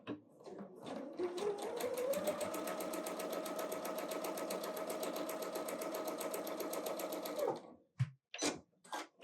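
A sewing machine sews quilt pieces together for a snowman quilt in one long, steady, close run of about seven seconds, ending with a few short clicks and handling sounds.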